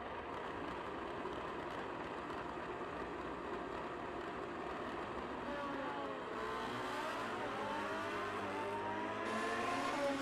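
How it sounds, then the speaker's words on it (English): A 1990 Suzuki drag bike, misfiring and running on three cylinders, drones steadily at a distance, its engine note climbing and revving toward the end before a sharp final burst. "That don't sound good. He's running on 3 holes."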